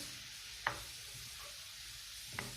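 Chicken breast with vegetables and salt fries in a pan with a steady soft sizzle, broken by two brief clicks of stirring utensils.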